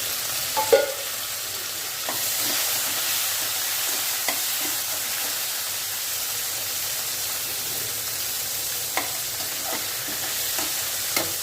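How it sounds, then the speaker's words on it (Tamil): Onions and tomatoes sauté in oil for a garlic masala curry, with a continuous sizzle broken by repeated scraping strokes of a spoon stirring the pan, close and fairly loud. "நல்லா வெங்காயம் வதங்கிட்டு இருக்கு."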